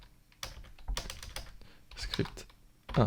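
Code for an After Effects script is typed on a computer keyboard in quick, uneven bursts of close clicking keystrokes separated by short pauses. The clicks grow heavier near the end.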